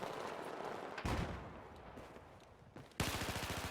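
Automatic AEK rifle fire from an esports shooter match, heard in two distinct bursts of rapid, punchy shots, the second one louder and ending the sequence.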